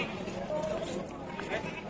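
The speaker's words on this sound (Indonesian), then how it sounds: "Ini ada induk anak. Ini kambing Jawa ya." A Javanese mother goat or her kid bleats briefly at the Ajibarang goat market, a short faint wavering call under people talking nearby amid market noise.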